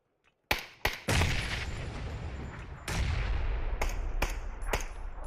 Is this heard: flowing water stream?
no